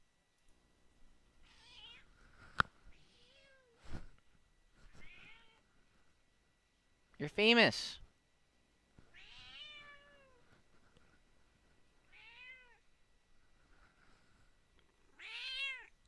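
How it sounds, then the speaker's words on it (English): A pet cat meows repeatedly indoors, about eight separate drawn-out cries spaced through the stretch, some loud and close, with a brief bit of talking between them. "Yeah, that's my cat."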